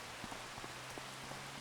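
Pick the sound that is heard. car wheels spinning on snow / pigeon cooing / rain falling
rain falling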